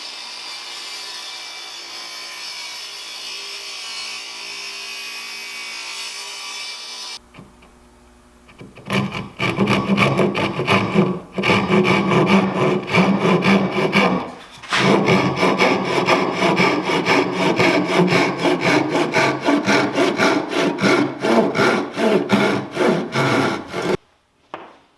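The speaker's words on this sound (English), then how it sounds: "I won't have to have my fingers near the blade when I'm pushing this through." Saw blade cutting through wood while building a wedge vise for holding small pieces, a loud raspy continuous cut that starts after a quieter hum, briefly pauses, then runs on before stopping; no speech.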